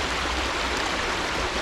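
Water rushes steadily through a gold panning sluice on a stream in Scotland, a dense, even, close wash with no voices.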